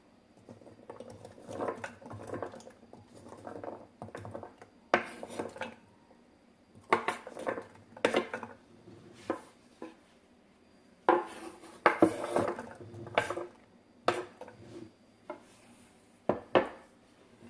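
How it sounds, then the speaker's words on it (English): Carrots tossed into a crock pot with a sirloin roast, a series of light knocks and clatters against the pot, fairly quiet and irregular. "And then you throw in your carrots."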